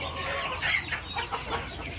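Chickens on a small poultry farm in Assam, birds kept on a raised platform, cluck and chatter in a steady, fairly loud flock noise with a few sharper calls rising out of it.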